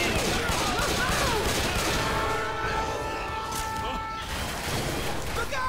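Sustained, heavy gunfire in the zombie shooter Left 4 Dead 2: loud, continuous rapid shots layered with game noise, with players' voices mixed in.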